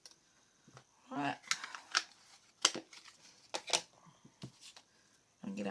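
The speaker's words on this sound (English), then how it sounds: "I'm going to get our scissors, cut it off our chipboard." Scissors snip through chipboard at a scrapbooking table, a series of quiet close crisp cuts with paper rustling between them.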